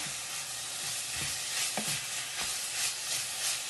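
Lobster pieces cooking in a pan over high heat, giving a steady broad sizzle with a few soft stirring knocks and scrapes mixed in, close by and with no talking.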